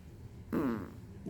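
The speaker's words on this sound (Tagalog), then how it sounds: "Ayan. Umutot na tuloy." A single short fart, fairly loud and close, lasting about half a second, set against quiet room background near a bowl of fish soup.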